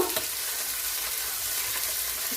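Bolognese ragu cooking in a pan over lowered heat, giving a steady, moderately quiet broadband sizzle with faint stirring scrapes throughout, no voices.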